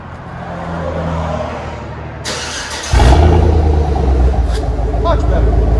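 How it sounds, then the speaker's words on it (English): A 2008 Chevy Tahoe 5.3L with a muffler delete, resonator and 4-inch tip idles with a deep rumble, then roars into a loud, sustained rev near the midpoint that holds strong to the end. "That's how old Chevy should sound."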